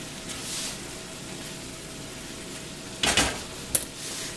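Diced onion and a pinch of salt go into a hot pan with cooked meat, a steady close sizzle of frying with a louder hiss and scraping clatter as they land, then a sharp clink of utensil on pan.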